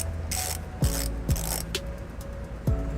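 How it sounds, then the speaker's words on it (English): A ratchet turns an 18mm socket to clean out weld nut threads during a trailer hitch installation on a 2012 Toyota RAV4, with a few quick pawl clicks and a close, sharp metallic snap at each stroke. "I'm going to go ahead and take a 18mm socket. And I'm just going to go ahead and ratchet it up."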